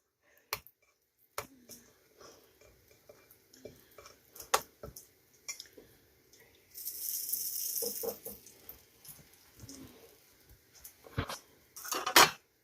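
A utensil scrapes and clinks against a bowl to gather the last of the French toast batter, sharp intermittent taps and scrapes with a steady hiss midway.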